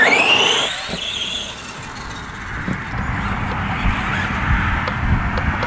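An ARRMA Granite 4x4 mega monster truck, a radio-controlled model, drives off with a rising electric motor whine at the start, then a steady broadband rolling and rumbling rush over the ground, fairly close with no talk.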